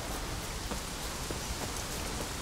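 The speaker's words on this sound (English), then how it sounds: "Can't see anything because it's raining so hard." Dense, steady hiss of heavy rain pouring down in The Witcher 3: Hearts of Stone, broadband and unbroken, with faint scattered patters of drops throughout.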